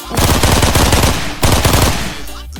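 Automatic AKM rifle fire from a Minecraft gun mod, two loud, rapid bursts of rattling shots at close range, the first longer than the second, with no talking.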